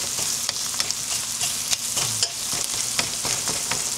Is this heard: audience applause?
no